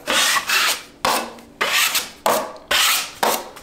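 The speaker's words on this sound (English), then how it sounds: "I'm just gonna come back and clean off all the excess mud." Drywall knife scraping excess joint compound off a freshly taped drywall seam, five close, loud rasping strokes in a steady rhythm, each sharp start fading out, no talk.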